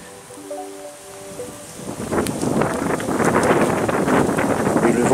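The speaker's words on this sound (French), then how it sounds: "Et le vent, c'est un vent de sud-ouest." Blustery south-west wind gusts into the microphone outdoors, starting softly and swelling into a steady roar of broadband rushing noise that continues to the end, with no one speaking.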